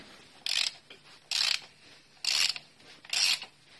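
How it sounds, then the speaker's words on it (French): A large ratchet with an extension and a 27 mm socket loosens the oil filter on a Hyundai Getz during an oil change, clicking out four evenly spaced bursts of rasping ratchet noise, close and loud, with quiet gaps between them. "Douille de 27, rallonge, gros cliquet, et je desserre."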